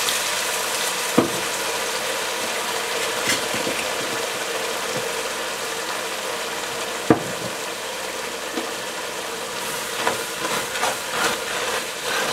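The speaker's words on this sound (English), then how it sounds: "we're going to deglaze the bottom with a little bit of Chinese cooking wine" Vegetables (onions, peppers, celery) sizzle steadily in a hot pan as Chinese cooking wine deglazes the bottom for a yellow curry chicken dish, a continuous close hiss with a few sharp clinks of utensils and no talk.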